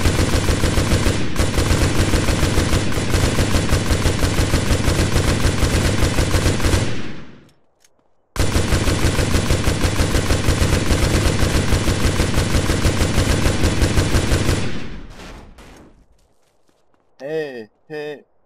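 Rapid automatic gunfire pours into a car in MTA DayZ, firing in two long sustained bursts of about seven seconds each, loud and close, with a brief gap between them and a few short sounds after.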